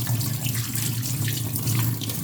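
Tap water runs steadily into a sink while a gas stove burner is rinsed clean, a close, constant gushing stream with a low hum beneath and no talking.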